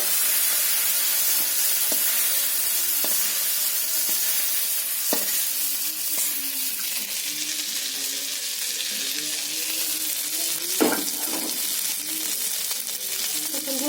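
Prawns fry in oil in a wok with a loud, constant bright sizzle, punctuated by a few spatula knocks and scrapes as they are moved and lifted out.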